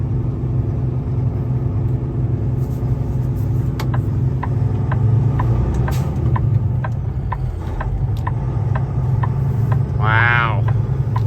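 A brand-new 2024 Kenworth T880 tri-drive truck rumbles steadily while driving, with a loud, low engine drone inside the cab, some clicks and rattles, and a brief higher whine near the end.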